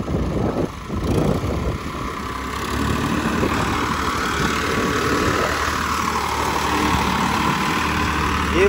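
Tractor engines idle steadily in a village field in rural Haryana, a continuous low diesel rumble that holds at an even level throughout with no talk over it.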